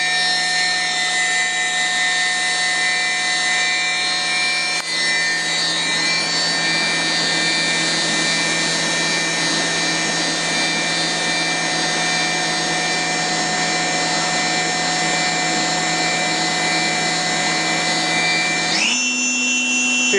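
A Brother TC-22 CNC machine spindle runs at 10,000 RPM with a steady, loud tonal whine layered with harmonics, constant throughout until the pitch steps up abruptly near the end, with no talk.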